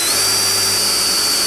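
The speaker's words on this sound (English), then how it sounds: "I'm gonna go ahead and drill a bypass hole just so it matches" A power drill drills a bypass hole on a Caterpillar D4, whining steadily at high pitch, loud and close, running continuously without pause.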